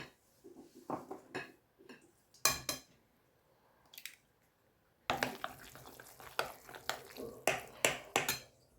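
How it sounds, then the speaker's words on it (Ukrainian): A spoon stirs a potato filling for homemade potato sausage in a bowl after an egg goes in, giving intermittent wet scrapes and clinks against the dish in uneven bursts, some pauses between, no talking heard. "додаю одне яйце і перемішую, так, щоб вся маса стала однорідною"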